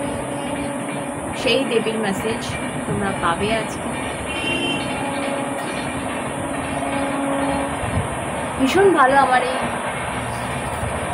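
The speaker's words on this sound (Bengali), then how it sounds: "বাট এই যে ট্রেনের আওয়াজ" A train rumbles past near a home balcony, a steady rolling roar with faint clattering and brief squeals, while someone talks over it throughout.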